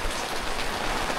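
Heavy typhoon rain pours down steadily while car camping at Goat Cliff, Atok, Benguet, a dense hiss of drops drumming on surfaces with no pauses.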